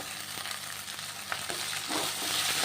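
Ingredients for semiya upma sizzling in a hot pan before tomato goes in, a steady bright frying hiss with occasional stirring scrapes, close and continuous.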